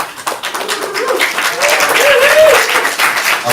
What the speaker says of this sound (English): Applause. Oh, clapping.